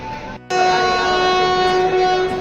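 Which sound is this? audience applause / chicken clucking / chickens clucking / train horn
train horn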